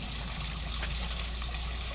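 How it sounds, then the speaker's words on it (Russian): Water flowing steadily and without pause through a flooded basement, a constant broadband trickling rush with no breaks, fairly close and moderately loud, no voices. "Если тихонечко прислушаться, то можно понять, что вода здесь не просто стоит, она течет не переставая."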